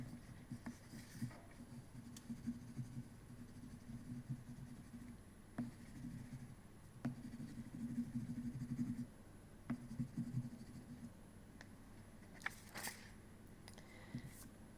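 Oil pastel rubs and scratches across paper in a quiet, steady series of short strokes with occasional light taps, close and soft with no voices.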